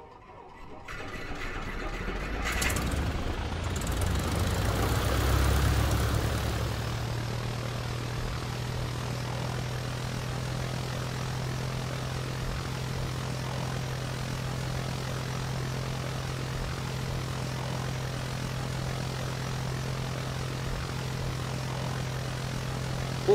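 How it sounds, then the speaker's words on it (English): Propeller aircraft engines in the Roblox game Aeronautica starting up with a rising roar, then settling into a steady, loud, continuous drone with a strong low hum that runs unchanged to the end. "Start the engines."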